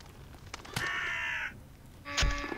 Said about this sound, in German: hier waren die Krähen, die klauen konnten